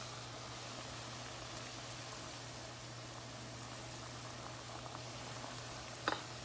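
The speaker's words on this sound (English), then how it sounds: "Now that the water has come to a boil, you're ready to add the other ingredients." Water at a steady rolling boil in a pot for cooking Puerto Rican white rice, a continuous soft bubbling hiss with a constant low hum and one brief clink near the end.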